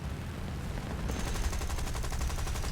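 Rapid automatic gunfire in the War Thunder flight game fires at a British Tier II aircraft armed with Hispano cannons, a steady fast rattle of shots over constant engine drone, growing denser after the first second.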